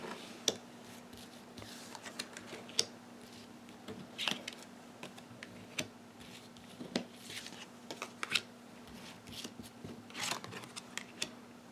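Tarot cards are shuffled quietly by hand in a series of soft flicks and riffles, spaced irregularly, close and faint over a low steady hum.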